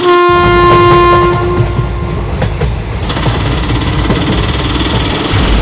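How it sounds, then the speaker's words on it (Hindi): A cartoon train engine roars in loud and close, its horn blaring at the start, then rumbling and clattering steadily along the rails. "सामने से तो एक ट्रेन नहीं बल्कि एक ट्रेन का इंजन आ रहा है।"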